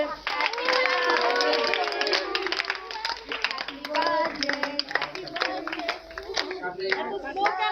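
Rapid hand clapping from a group at a birthday party, dense and steady for several seconds, mixed with overlapping voices and crowd chatter.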